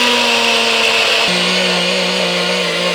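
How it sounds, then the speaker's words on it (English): NutriBullet blender grinding flax seeds into flour, a loud steady high-pitched motor whine running throughout, its pitch dipping slightly as the seeds break down. "I'm going to put them into our NutriBullet. We're going to grind them down until they're flour-like."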